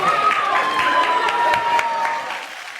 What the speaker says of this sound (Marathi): एकदा जोरदार टाळ्या त्यांच्यासाठी होऊन जाऊ देत